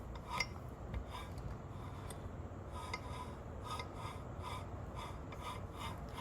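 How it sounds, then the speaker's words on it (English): A low, gritty scraping and rubbing noise repeats steadily as a supercharger on a Chevrolet S10 is turned slowly by hand, close up, with faint metallic ticks. "if I turn it, it's kind of got a weird sound now. Almost like it's rubbing something"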